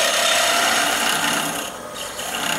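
A wooden ornament turning on a lathe is cut with a skew chisel, giving a steady, close, loud scraping hiss that dips briefly midway, with no talk.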